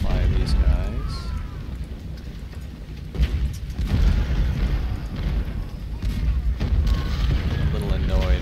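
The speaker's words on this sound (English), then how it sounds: "the artillery they have out here" Artillery fire rumbles in the Ultimate General: Civil War game at Gettysburg, with deep booms and bursts rolling continuously under a dense battle soundscape.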